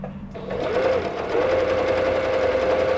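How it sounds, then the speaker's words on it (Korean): A Singer 7463 sewing machine, repaired after blowing out on 220 V, starts up and stitches steadily, giving a close, even mechanical whir with a steady hum throughout. "소음이 적으면서 네, 정상적으로 바느질이 됩니다"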